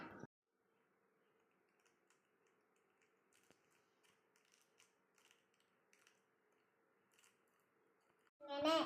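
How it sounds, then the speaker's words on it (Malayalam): Scissors cut cardboard into a tree shape for a home decor craft, heard as faint, close, repeated snips and crunches at an uneven rhythm over a quiet steady background, with a brief voice at each end. "ഈ കാർഡ്ബോർഡ് മരത്തിന്റെ ഷേപ്പിൽ മുറിക്കണം."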